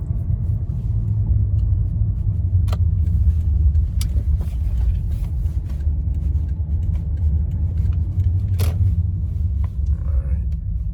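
A 2008 Lexus 350 accelerates gently from a stop sign, its engine giving a loud, steady low rumble heard from inside the car along with road noise, with no talking.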